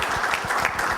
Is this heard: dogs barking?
no